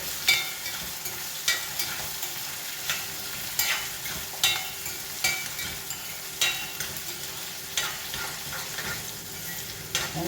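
Ginger and onion fry together in hot oil in a pan for garlic pickle, a steady close sizzle with regular scraping stirs that come roughly once a second, with no voices.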